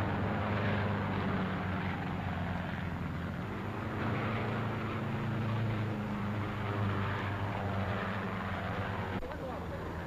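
Propeller engines of WWII fighter planes drone steadily and loudly for the whole stretch, a low continuous roar with someone narrating over it.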